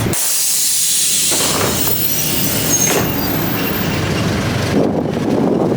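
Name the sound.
bus doors opening with a loud, deafening hiss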